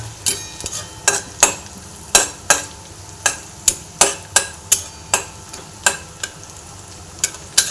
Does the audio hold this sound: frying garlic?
yes